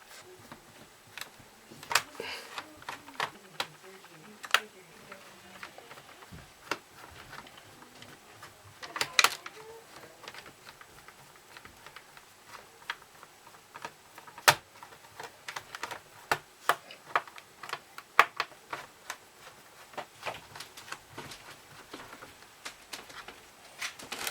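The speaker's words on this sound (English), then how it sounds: "Now we're going to put the screws in around the case." Small metal screws driven into a computer case during a motherboard replacement, heard as scattered sharp clicks and scratchy taps at irregular intervals, fairly close and moderately quiet, with no talking.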